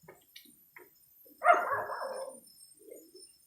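A dog at a house gives one short burst of barking close by, a rough bark lasting about a second and trailing off, with a few faint chirps and small sounds around it and no talk.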